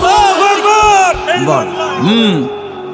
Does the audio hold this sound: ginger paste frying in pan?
no